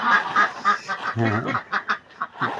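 Ducks kept at a home farmyard give a run of loud, close, nasal quacks and honking calls in quick irregular bursts, several birds overlapping.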